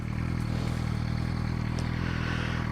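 A KTM motorcycle engine running steadily with a low, continuous rumble and light mechanical clatter, close and unchanging throughout, with no voices.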